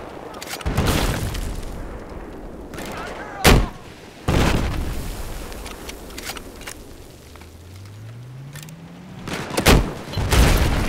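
Heavy tank cannon blasts in the video game Battlefield 4, a few loud booming shots spaced seconds apart striking an enemy tank, with a low engine rumble and someone talking between them.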